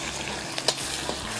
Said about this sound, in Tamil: கடுகு, வெந்தயம், சீரகம், மிளகு போட்டிருக்கேன். இது பொரிஞ்சிருச்சு.